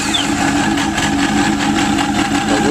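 A 2003 Yamaha RX1 snowmobile engine idles after a carburetor cleaning, a loud, steady, close mechanical drone with fast rhythmic pulsing and no talking.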